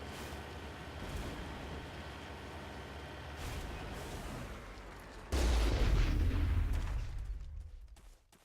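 A loud, sudden burst of booming noise from the Mass Effect video game, standing in for a vehicle's braking, cuts in over a steady rumbling drone and trails off over a couple of seconds.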